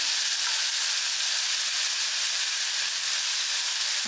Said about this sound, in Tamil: கருவேப்பிலை கொஞ்சோன்னு நான் கிள்ளி போட்டுக்கிறேன் தக்காளி வந்து நல்லா வதங்கட்டும்